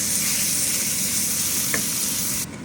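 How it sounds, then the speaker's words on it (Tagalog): Ground beef fries in a pan with a loud, continuous, close sizzle and no voices, fading abruptly at the very end. "Lagay na natin yung beef."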